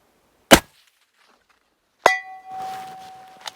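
A rifle shot from a Seekins Havak in 300 Win Mag is followed about a second and a half later by a bullet striking a steel target at 385 yards, which rings with a clear, sustained metallic clang, both loud and isolated.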